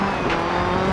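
A rally car in DiRT 4 with its brakes locking above 150, a loud continuous roar of engine and tyres skidding across the surface, steady and close throughout.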